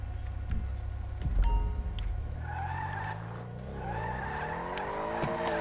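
Race cars in online racing in GTA V, engines revving and rising in pitch while tyres squeal in long skids, with a few sharp clicks early on.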